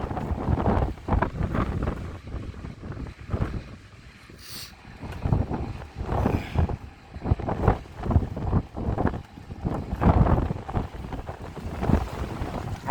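Strong wind gusts roughly against a raised car hood on a drive near Watrous and Clayton, New Mexico, a loud, continuous blustery roar with repeated surging bursts and buffeting thumps close to the microphone.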